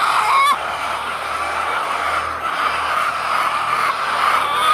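Egg-laying hens cluck in a coop on a small farm, a close, steady run of low clucks and murmurs over a constant background hum.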